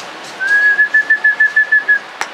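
At a street chess game, someone whistles one sustained high note, then breaks it into a quick series of short, evenly spaced pulses, close and clear.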